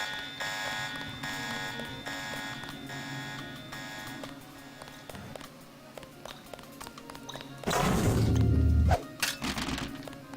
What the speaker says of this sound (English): hopefully that alarm shuts up